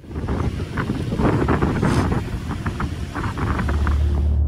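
Strong wind gusts across Mandarmani sea beach, roaring and buffeting the microphone continuously, with surf noise mixed into the steady rush and no talk.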